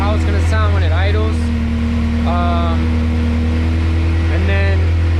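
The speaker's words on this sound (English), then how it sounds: "I just wanted to see if it would start, how it's going to sound when it idles." A Honda CRX with a B17 engine and newly installed Skunk2 Pro2 camshaft idles loudly with a steady low drone, and a voice talks over it throughout.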